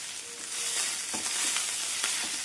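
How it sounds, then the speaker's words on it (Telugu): Chopped coriander and mint leaves fry in oil for a pickle, giving a dense, continuous sizzle with faint stirring scrapes, close and fairly loud. "ఇదంతా కూడా నూనెలో బాగా మగ్గాలి"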